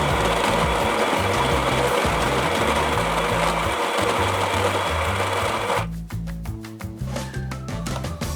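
An electric espresso grinder whirs loudly and steadily as it grinds coffee beans into a portafilter, then stops abruptly, leaving light clinks and handling noise.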